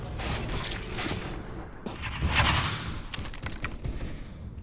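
Gunfire in the shooter game CS:GO, a busy spray of rapid shots with sharp bursts near the middle and end, heard at moderate distance over a dense, noisy background.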